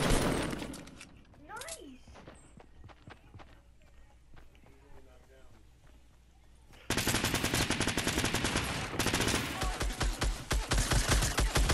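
Rapid bursts of Fortnite gunfire crackle loudly through the last five seconds, following quieter scattered shots, footsteps and voices chatting over the game.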